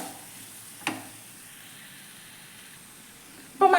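Spice powders sizzle in a pan as they are stirred, including turmeric, coriander and another spice powder: a soft, steady hiss with a single scrape early on and a louder clatter at the end.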